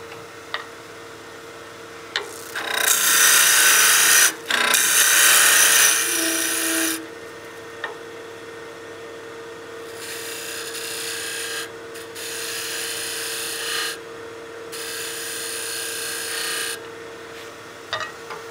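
Wood being turned down on a lathe to size a tenon for a birdhouse ornament, bursts of harsh scraping and shaving as the tool cuts, several passes separated by quieter motor hum, close up.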